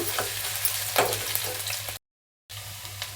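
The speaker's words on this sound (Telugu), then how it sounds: "అల్లం వెల్లుల్లి పచ్చివాసన పోయేదాకా వేయించుకుందాము నెయ్యిలో వేయించడం వల్ల టేస్ట్ బాగుంటుంది" Ginger and garlic frying in ghee for palak paneer give a steady close sizzle with soft stirring scrapes. It breaks off into a short silence, then resumes.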